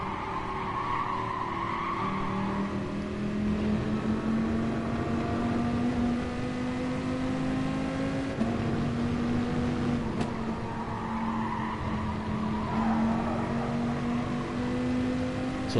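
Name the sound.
Dodge Viper race car engine in Gran Turismo Sport video game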